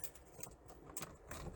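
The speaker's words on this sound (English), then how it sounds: "So we take our keys" Car keys for a 2003 BMW 325i E46 jingle softly in a few brief, light metallic rattles, very faint and close, with quiet background between the shakes.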